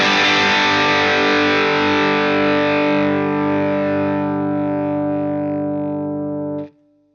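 An electric guitar is pushed by a Prince of Tone overdrive pedal into a Fire Mist amp: one loud, distorted chord rings out with long sustain, slowly fading before being cut off abruptly.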